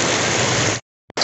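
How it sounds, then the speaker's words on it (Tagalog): Heavy rain pours down outside a school in a dense, steady hiss for most of the moment, then cuts out briefly before resuming. "malakas ang ulan"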